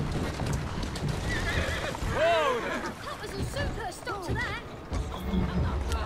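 Horse neighing and whinnying in Assassin's Creed Syndicate, a few rising calls over constant clip-clopping hooves and carriage noise, fairly loud with game sounds throughout.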